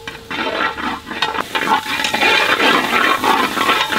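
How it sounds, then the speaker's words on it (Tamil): Tomatoes and onions cook down in a pan for a cutlet masala, stirred steadily with a loud, wet, bubbling sizzle that swells and eases in waves throughout. "தக்காளி நல்லா மசீர வரைக்கும் நம்ம கிண்டிக்கிட்டே இருக்கணும்"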